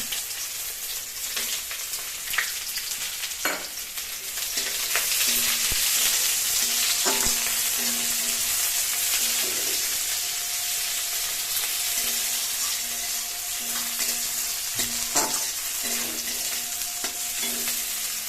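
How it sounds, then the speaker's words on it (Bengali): Chopped onion sizzling in hot oil in a pan, a dense steady frying hiss lasting the whole stretch, broken by scraping stir strokes and occasional clinks of a utensil against the pan. "পেঁয়াজ কুচানো দিয়ে দিলে"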